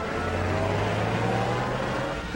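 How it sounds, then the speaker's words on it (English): A car engine drones steadily in an old 1930s film serial, a continuous low rumble with road noise, fairly loud and without speech. "Our car's running wild."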